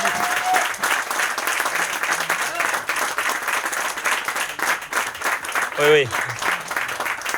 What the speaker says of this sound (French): c'est pour ça que je crois qu'il mérite aussi beaucoup d'applaudissements